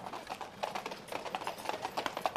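Horse hooves clip-clop in a steady rhythm through a period drama street scene, moderately loud and close, with faint background noise around them.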